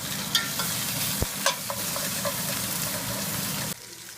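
Pork ribs for Ecuadorian fritada frying in a pan, a busy close sizzle with small pops and stirring scrapes that cuts off abruptly near the end, no one talking.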